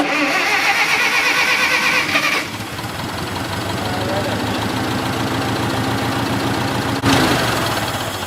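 A Ford Mustang engine starts with a loud burst after cranking, then settles into a rough, steady idle close by that runs to the end, with a louder blip near the close; people talk over it.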